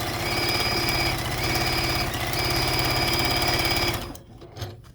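A sewing machine stitches a quilt row, a fast close mechanical chatter with a steady pulse and high whine, briefly slowing once before stopping near the end.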